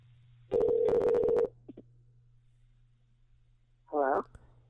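A telephone line tone heard while calling for an interview: a steady low hum runs throughout, with a loud sustained tone near the start, a few brief blips, and a warbling ring toward the end.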